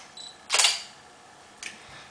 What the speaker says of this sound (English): So if you want to hear how fast it is,